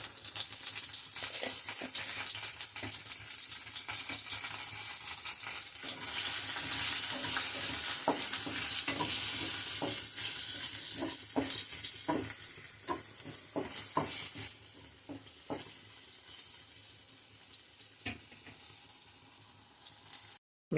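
Asafoetida tempering for coriander charu crackles and sizzles steadily in hot oil, with scattered pops and spatters over a continuous frying hiss that eases off toward the end.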